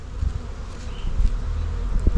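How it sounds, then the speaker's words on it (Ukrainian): Steady buzzing of many bees close by as they enter a swarm trap, a dense droning hum with no voices. "Бджоли зайшли"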